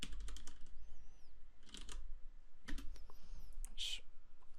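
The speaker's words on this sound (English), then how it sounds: "So now if I just type in python app.py" Someone types a command on a computer keyboard in short bursts of light, close key clicks, with brief gaps and low background hum.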